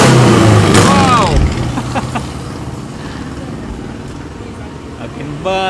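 Exhaust from street vehicles at Simpang 4 in Pematang Siantar: loud engines rev and pass close by at the start, then settle into a steadier traffic rumble, with another rev rising near the end.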